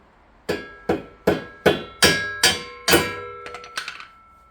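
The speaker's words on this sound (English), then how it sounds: "Take a hammer. And lightly and gently," A hammer taps a metal shear pin into a hole on a Troy-Bilt Storm 2840 snowblower, about seven steady ringing taps, followed by a few quicker, lighter knocks, close and clear.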